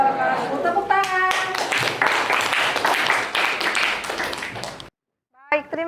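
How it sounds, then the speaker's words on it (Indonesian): A classroom of students claps together after a presentation, a dense burst of hand claps lasting several seconds before cutting off abruptly, with voices at the start and a short voice at the end. "Tepuk tangan."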